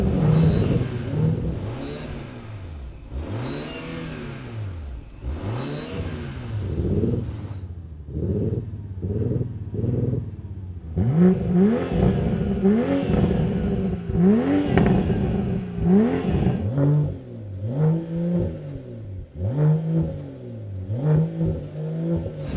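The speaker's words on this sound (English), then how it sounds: "Do you think the diesel Audi is going to beat this Volvo?" A drag race between a BMW M340i, a diesel Audi S4, an AMG and a Volvo S60 Polestar, with engines revving hard through repeated rising gear-change sweeps, loud and close, then several cars roaring past together in overlapping accelerating surges.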